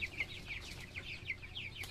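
Chickens clucking and chirping with repeated short calls over a steady farmyard murmur, fairly close, no talking; a poultry flock after a typhoon.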